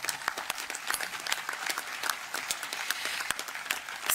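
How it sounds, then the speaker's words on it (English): A crowd at a university spring graduation ceremony gives a round of applause, dense fairly quiet clapping heard from a distance and continuing steadily throughout. "give them another round of applause"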